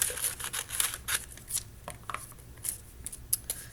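Scissors trim a piece of adhesive vinyl, a close series of quick, crisp snips and light rustling in uneven bursts, with no talking.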